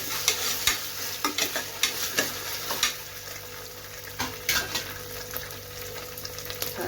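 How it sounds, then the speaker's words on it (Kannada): Ginger garlic paste frying with onions in a pan for vangi bath, a steady sizzle broken by repeated scraping stirs of a spoon, close and moderately loud with no talking. "1 ಸ್ಪೂನು ಶುಂಠಿ ಬೆಳ್ಳುಳ್ಳಿ ಪೇಸ್ಟ್ನ ಸೇರಿಸ್ತಾ ಇದ್ದೀನಿ."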